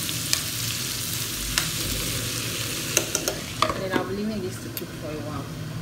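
Nigerian meat pie filling with thyme simmering and being stirred in a pan, giving a steady low bubbling sizzle with scraping stirs and a few sharp utensil clicks near the end.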